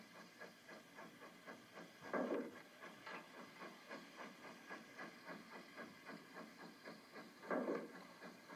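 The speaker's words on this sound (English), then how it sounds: "sounds of steam locomotion and of steel wheels on steel rails are unbroken as we make our way through the Shasta Valley" Yreka Western steam locomotive No. 19 chuffing in a steady, even rhythm through the Shasta Valley, with steel wheels rolling on steel rails and occasional louder bursts, heard at a moderate distance.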